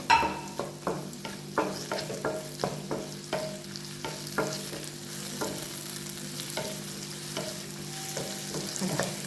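Chopped tomato hits a hot pan for Chettinad chicken masala with onions, bringing steady sizzling and a run of quick scraping stir strokes near the start that thin to a gentler fry.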